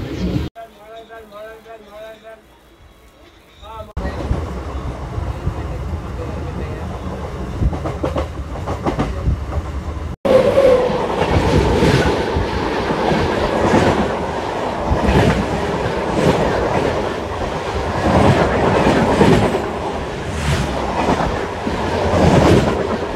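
A MEMU express train runs between Rajahmundry and Visakhapatnam with a steady wheel rumble and rhythmic clickety-clack heard from inside the carriage, starting quieter then swelling louder, under faint background voices.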